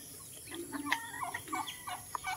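Several chickens cluck and gobble-like calls bob in and out, moderately close, over a steady background hiss.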